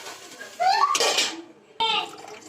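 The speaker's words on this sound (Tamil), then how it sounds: "இப்போ தேவையான அளவு தண்ணி ஊற்றிக்கலாம்." Water is poured into a pot of salna, giving a brief splashing gush in a kitchen, followed by a clank of utensils, while a voice talks quietly around it.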